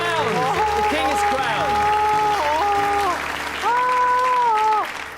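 A television studio audience claps and cheers for a viewer crowned King, a dense, steady wash of applause that carries under sustained, tonal sung or spoken voices throughout.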